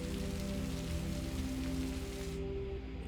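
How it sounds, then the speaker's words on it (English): Steady, dense rain falls and patters on surfaces in a TV drama scene, a constant wash of noise with a low tonal hum underneath, heard alone without talk. "You're supposed to kiss in the rain when it's raining like that."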